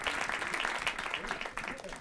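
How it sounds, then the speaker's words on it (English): An audience at a comedy panel chat claps in a short, steady burst, moderately loud with individual claps audible in the wash. "Round of applause, please."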